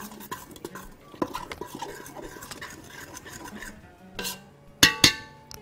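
A spoon stirs oil into dry bread dough ingredients such as flour, salt and yeast in a bowl, giving soft scraping and rubbing sounds, then a few sharper clinks of utensil against the bowl near the end.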